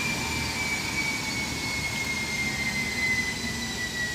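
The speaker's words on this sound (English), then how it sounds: "excuse the dyno in the background" A dynamometer drones steadily in the background of a garage, a constant broadband rumble with a faint high whine, unchanging throughout and with no talking.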